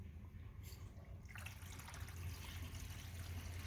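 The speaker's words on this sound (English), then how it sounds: "I can hear the water going through." Rainwater rushing through the pipes of a home collection system after air is released from the lines, a steady low gurgling flow that grows fuller partway through and continues without pause.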